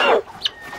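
Chickens clucking near the coop at sunset as they come out, a few close, short clucks and calls in a quiet outdoor setting.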